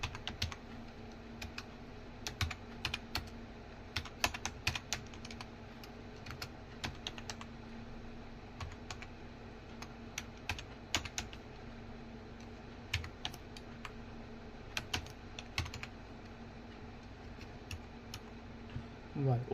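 Steady typing on a computer keyboard while entering a Plasma desktop install command on Ubuntu KDE, with irregular clusters of close, crisp key clicks over low background hum, a few louder keystrokes near the end.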